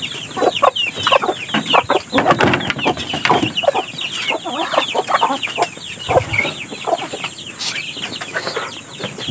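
Chickens and a chick clucking on a farm, a close, busy chorus of clucks and peeps that runs continuously and fairly loud throughout.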